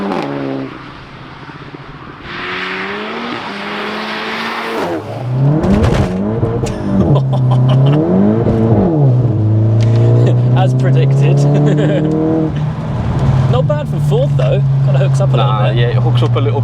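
A tuned 556bhp Cupra 280 daily driver revs loudly and pulls away, its engine note climbing and dipping through several rising sweeps, with people talking over it.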